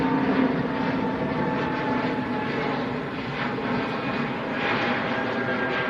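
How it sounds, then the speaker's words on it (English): A Pegasus Airbus A320neo departing Manchester for Antalya, a continuous mid-level jet engine rumble with gentle swells, steady and unaccompanied by talk. "Another Pegasus coming out. This one's off to Antalya, an A320"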